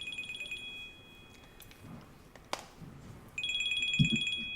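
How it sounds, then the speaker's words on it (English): An old-style telephone bell ringtone on an electronic device trills in bright rapid bursts, one ring at the start and another near the end, with quiet room noise and a few soft knocks between them. "I picked a ringtone."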